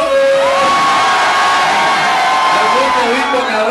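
A crowd at a live concert yells and cheers continuously, loud and dense, with a voice shouting over the roar throughout.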